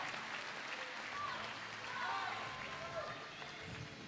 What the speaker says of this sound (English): Let's hear another round of applause for her.